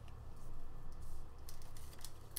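A pendant piece being cut out, heard as a few soft, close snipping crackles spread over a couple of seconds against a low background hum, with no talking.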